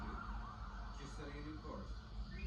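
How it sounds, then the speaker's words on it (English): An emergency siren outdoors wails in rising and falling sweeps, heard faintly through a dense indoor background rumble. "It's a siren outside."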